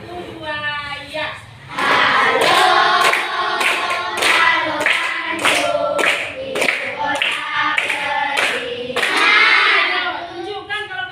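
A class of children claps hands in a rhythmic cheer pattern, sharp claps repeating steadily for several seconds, with kids' voices mixed in beneath.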